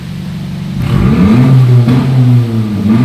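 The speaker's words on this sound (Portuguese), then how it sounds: "foi instalado o difusor de escapamento Slim da Digipower" Honda Civic G10 engine breathing through a Digipower Slim stainless steel exhaust diffuser, a loud, close, throaty idle swelling into a rising rev and holding a deep, steady drone.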